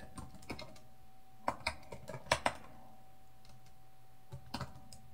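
Scattered keystrokes on a computer keyboard, quiet clicks arriving in short bursts and pauses over a faint steady hum, close by with no talking.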